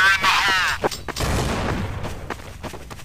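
A grenade blows up in Counter-Strike: Source on the Office or Tides map, a single loud, broad burst that booms and then tails off, with shorter gunshot-like cracks around it.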